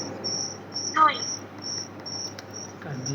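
A cricket chirps in short regular bursts, fairly close and steady, with a brief faint voice-like sound partway through.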